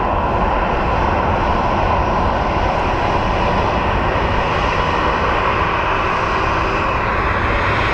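A Southwest airliner flies by at Phoenix Sky Harbor International Airport, its jet engines a loud, sustained roar that holds steady without talk over it.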